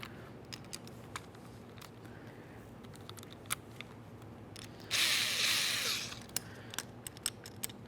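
Loosening the 10mm bolts on a rear window regulator of a 2006–2012 Ford Fusion: quiet scattered clicks and taps, then a loud one-second power-tool whir, followed by more ticking clicks.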